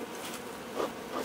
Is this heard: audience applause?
no